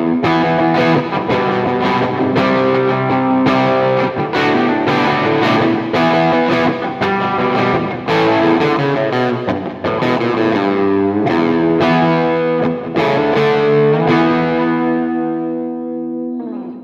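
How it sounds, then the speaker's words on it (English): Crunchy rock riffs on an electric guitar through a Getaria multi-effects pedal with a Soldano cab simulation, a steady run of distorted, driving chords and notes, close and loud, ending on a sustained fading chord. "Let's check out some crunchy rock riffs."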